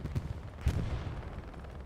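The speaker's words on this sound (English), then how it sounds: "Explosion happens over there to the distance." Distant explosions and gunfire in the video game Hell Let Loose, Hurtgen Forest map, two dull low booms with a scatter of faint shots in between, soft and far off.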